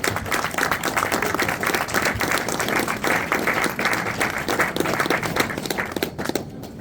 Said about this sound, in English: So a round of applause for Kevin,